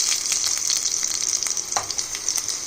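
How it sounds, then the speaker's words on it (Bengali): Garlic pieces fry in hot oil in a pan, a dense steady sizzle with crackling pops and a few sharp spatters, close and loud, no talk. "দেখো, এর মধ্যে আমি দিয়ে দিলাম রসুনের টুকরো কটা।"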